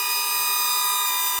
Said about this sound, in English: This is the sound of the DJI Neo.